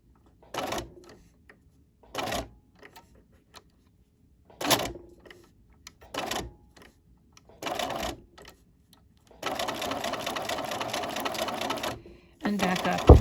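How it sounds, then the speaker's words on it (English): A sewing machine stitches a curve in short whirring bursts separated by pauses where the presser foot is lifted, then runs one longer steady stretch and a final burst. "A little bit of a lift, a stitch or two."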